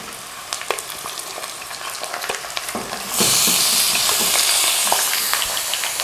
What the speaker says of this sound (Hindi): चिकन को अच्छी तरह भूनते हैं।